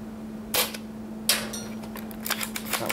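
Shots from an S&T KAR98K real-wood, steel-cylinder airsoft rifle, two sharp snapping cracks about a second apart followed by faint clicks and rattles of handling, close by and without speech.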